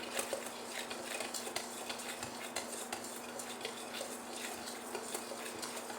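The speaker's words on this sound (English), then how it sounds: "I'm just going to take a whisk and kind of whisk that up" A whisk beating pumpkin roll batter in a bowl, rapid rhythmic clinking and tapping against the sides, close and steady throughout, no talking.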